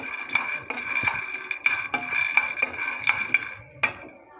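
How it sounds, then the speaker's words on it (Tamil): Peanuts dry-roasting in a pan for idli podi, a spoon or spatula clinking and scraping against the metal in a quick, fairly regular rhythm, close up with a light rattle of nuts, no talking. "நிலக்கடலை நம்ம இந்த அளவுக்கு நல்லா வந்து வாசம் வர்ற வரை நல்லா வந்து வறுத்தெடுத்தாச்சு"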